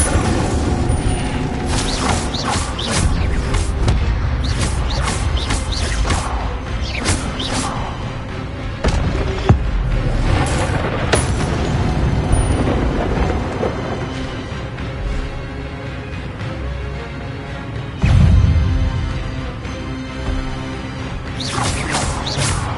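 Spells cast in Hogwarts Legacy's combat hit as repeated whooshes, thuds and booming impacts over a running game soundscape, scattered bursts spread through the stretch with one heavy thump late on.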